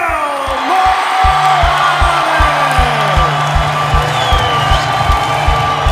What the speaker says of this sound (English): Some moans and groans from the crowd, but plenty of cheers too